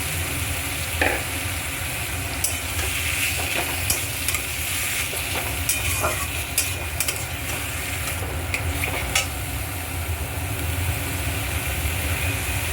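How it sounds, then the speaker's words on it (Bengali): Boiled banana flower tossed into a cooked-down spice mix and stirred in a pan, giving a steady close sizzle of frying with scraping stir strokes and a low hum throughout, no talking. "মশলাটা কষা হয়ে গেছে এবার এর মধ্যে আমি সেদ্ধ করে রাখা মোচাটা দিয়ে দিলাম"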